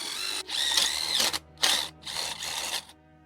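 Power drill enlarging holes in wire terminals held in vice grips while converting a golf cart from resistor coils to solid state, three close whining bursts of drilling with short gaps between.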